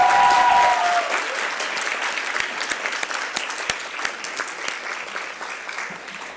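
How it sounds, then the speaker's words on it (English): An audience applauds to welcome a violinist onto the stage at a Carnatic violin arangetram. The clapping is dense and sustained, loudest at the start and then settling to a steady, slightly thinner patter. "Please join me in giving a warm round of applause"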